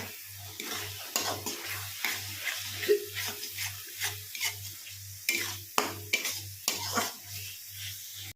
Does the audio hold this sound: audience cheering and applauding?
no